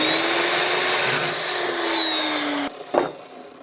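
A power saw cuts rebar with a loud, steady whine that slowly drops in pitch, then stops abruptly, followed by a short clank and ringing metal.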